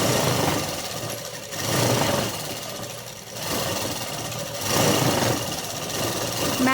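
A sewing machine runs in stitching bursts on thick cloth, with three long whirring runs separated by short pauses, close and steady, and no talking.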